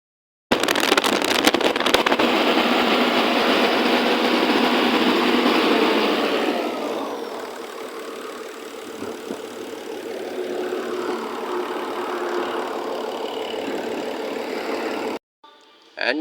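Hyundai R170 wheel loader diesel engine running after an alternator replacement, a steady loud drone that eases down to a lower, quieter idle midway and keeps running.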